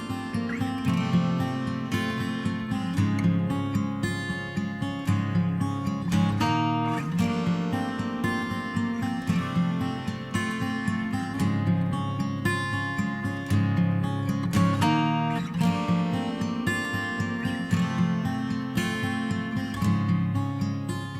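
Acoustic guitar strummed steadily with a full, thickened body from early-reflection delay taps in a Relab LX480 room reverb, playing continuously for about twenty seconds with no talking.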